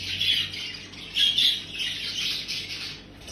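Grey-winged cock budgie at a budgie exhibition giving several sharp, high squawks and chirps in short bursts, close and fairly loud with no talking.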